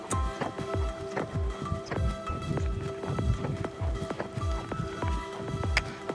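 A horse trots outdoors, hooves clip-clopping in a steady, even two-beat rhythm, close and clear throughout.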